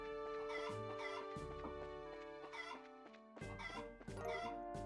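Chickens cluck repeatedly in short bursts over a steady background of game music in Trails in the Sky Second Chapter, the clucks close and fairly loud with brief pauses between.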